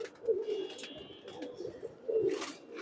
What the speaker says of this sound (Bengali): খুবই সুন্দর কবুতর গুলান